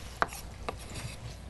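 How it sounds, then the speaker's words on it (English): A kitchen knife chops vegetables on a cutting board while a soup is prepared, giving two crisp, quiet strikes spaced about half a second apart over a low background hum. "I'm just chopping away"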